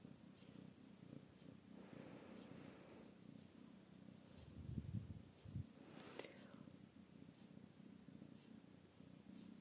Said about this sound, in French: Je vous présente ma petite Luna, qui est déjà en train de ronronner.